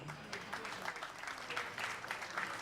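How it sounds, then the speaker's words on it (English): Soft audience applause at the Millennium Excellence Award ceremony honoring Evans John Labi, a steady patter of many hands heard from some distance, with faint voices mixed in. "So with a very big round of applause"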